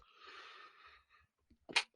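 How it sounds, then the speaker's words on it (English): A single sharp sneeze, close and brief, follows a second of audible breathing and a quiet intake of breath, with near silence between. "I was trying to mute before I sneezed"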